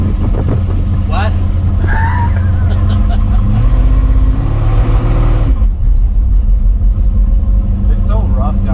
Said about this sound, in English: It's so rough down low. Yeah, it still has like a low RPM miss